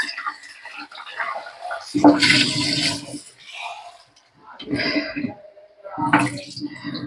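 Water splashes and sloshes in a basin in several separate bursts as vegetables are rinsed by hand, close up.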